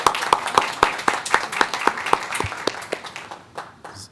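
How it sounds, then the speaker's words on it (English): Applause at a school board meeting welcoming Craddock Middle School, a few distinct hands clapping in a fairly regular rhythm up close over softer scattered clapping, tapering off near the end. "Let's give Craddock a round of applause."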